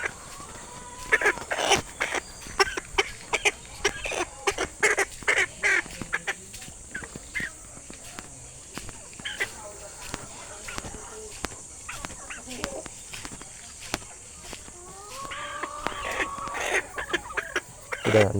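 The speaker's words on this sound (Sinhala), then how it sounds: "ඔහොම තමයි මේ සාමු කුකුල් ටික අපි කූඩුවට මාරු කරේ" Shamo chickens clucking and squawking in bursts while being moved into a new cage, with a person talking intermittently over the close, scattered bird calls and handling noise.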